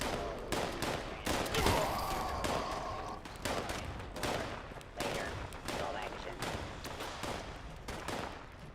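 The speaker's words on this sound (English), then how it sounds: "I hear shooting." Repeated bursts of gunfire in Fallout 76, rapid automatic shots and single cracks firing in irregular clusters throughout, fairly close and loud, with occasional voice underneath.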